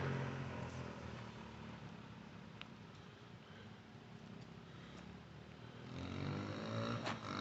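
A Suzuki DRZ125 motorcycle rides down the block, its small engine a steady low drone at moderate distance that swells louder toward the end as it comes back near.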